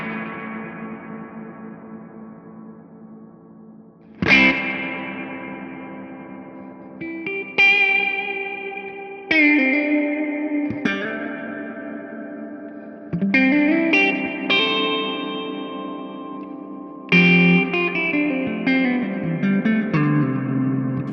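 An electric guitar played through a Tonex spring reverb with the time turned all the way up: several struck chords and single notes ring out, each with long, splashy tails that drip and wash between strikes, with no talking.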